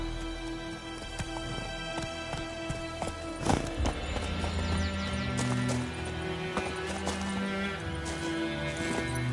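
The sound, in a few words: Roach the horse galloping, from video game The Witcher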